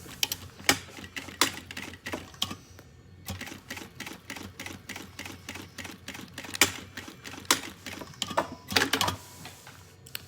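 Sewing machine stitching a seam along the edge of a school backpack, running in quick bursts of rapid mechanical clatter with short pauses between runs, close and fairly loud.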